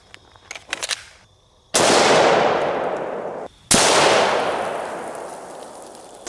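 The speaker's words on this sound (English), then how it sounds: "we're going to start out with an AR-15, and we're going to be loaded up with some green tip" Two AR-15 rifle shots firing 5.56 green tip rounds at an Atlas stone, each a sharp, loud crack with a long decaying ring, spaced about two seconds apart after some faint clinks.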